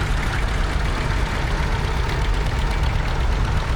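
A vintage Zetor 5711 tractor engine idles at an agricultural show, a steady, loud, low rumble with a faint knocking pulse that runs unbroken throughout.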